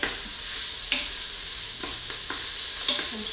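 Gouda-style veggie sausage cut into half moons browns in a pot, giving a steady soft sizzle with a few brief scraping stirs and clicks of a utensil against the pot.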